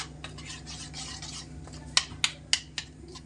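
A spoon scrapes and stirs a homemade spice masala in a bowl for okra, a soft rubbing swirl followed by four crisp, close taps against the rim.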